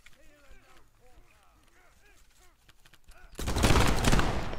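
A voice talks for a few seconds, then a loud, dense burst of musket volley fire erupts and rolls on to the end, in the Revolutionary War game Prime & Load 1776.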